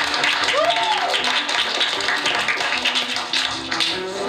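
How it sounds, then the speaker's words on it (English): Audience applause for two student presenters at a school presentation, a dense steady patter of many hands clapping under crowd chatter and a brief whistle near the start. "give a round of applause for the two"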